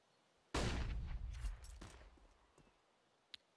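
Counter-Strike gunfire on the Inferno map during a professional match: one sharp, fairly loud burst of shots with a decaying rattle, then faint scattered taps and a brief click, with no talking.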